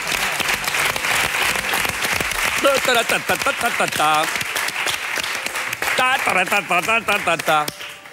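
A television studio audience bursts into loud, continuous applause, with cheering and a voice rising over the clapping partway through.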